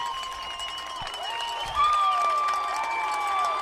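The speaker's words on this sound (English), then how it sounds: "The fans are cheering." Football fans in a high school stadium crowd cheering and clapping at a Connellsville game, a broad roar with whistle-like tones that swells midway.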